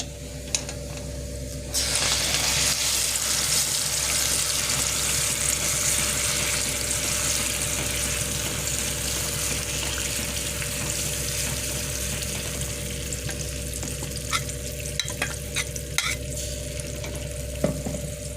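Wheat flour batter seasoned with salt and asafoetida cooks over a low flame while it is stirred in a pan, giving a continuous dense bubbling and scraping texture close up, with a few sharper clicks near the end and no voices.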